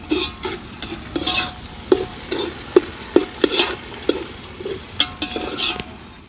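Potatoes and pigeon peas are stirred and fried in a pan, with a soft sizzle under repeated close scraping and tapping strokes of a spoon against the metal.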